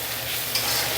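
Chili powder masala being sautéed in a pan for a potol dorma, a short close burst of hissing sizzle with a slight stirring swell midway.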